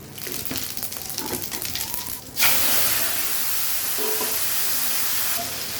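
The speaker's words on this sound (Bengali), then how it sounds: "এখন সেই তেলে জিরা ফোড়ন দিয়ে দেব" Cumin seeds dropped into hot oil in a kadai left from frying fish, a sudden burst of loud sizzling hiss that stays steady, after a stretch of softer kitchen clatter and stirring.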